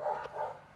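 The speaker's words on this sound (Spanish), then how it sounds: "Mira, el perro ya empezó a ladrar." A dog barks once or twice in a short, fairly close burst, with a faint voice beneath it.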